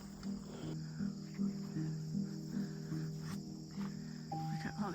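Insects hum and buzz steadily among sunflowers and finished hollyhocks in a garden, a low continuous drone with faint pulsing, fairly quiet and close.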